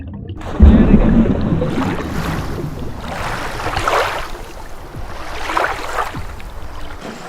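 Coracle ride on the water at Gavi dam, a steady rush of water and wind around the small round boat with swelling washes of splashing, close and fairly loud throughout.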